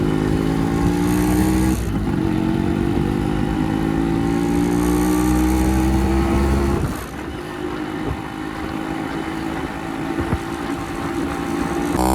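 A Yamaha RX100 motorcycle runs on a test ride, its engine droning loud and near with rising pitch as it accelerates, then easing to a lower steady hum partway through.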